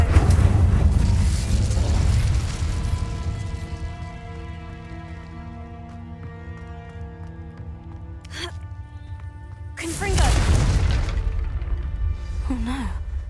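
A fire spell cast in the Hogwarts Legacy video game, a loud whooshing blast at the start that fades under a sustained musical drone, followed by a second sharp burst near the end with a brief voiced gasp.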